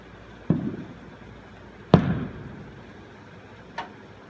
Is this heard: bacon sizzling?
no